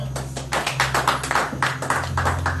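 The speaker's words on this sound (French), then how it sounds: "nous acclamons très fort Dieu" A church congregation clapping and acclaiming God, a brisk run of many hands clapping in uneven rhythm over a low sustained hum, fairly loud and close, with no speech.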